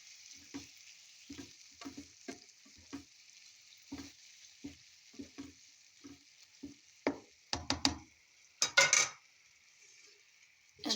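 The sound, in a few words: fried eggplants sizzling in a pan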